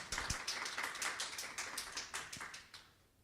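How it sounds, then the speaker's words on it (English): Sparse applause from a small audience at a community history café, scattered claps in an uneven rhythm that thins out and fades near the end. "Please give them a warm round of applause."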